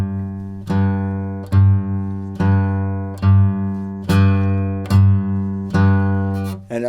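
Single Stratocaster electric guitar note struck repeatedly in an even rhythm, about eight times, each attack ringing clearly and decaying with a shifting tone, close and alone.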